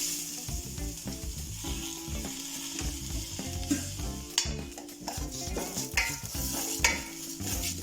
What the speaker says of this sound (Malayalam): ചിക്കൻ പുലാവ് ഉണ്ടാക്കുന്നതിന് മുമ്പേ നിർബന്ധമായിട്ടും അതിൻ്റെ അരി നന്നായിട്ട് വറുക്കണം.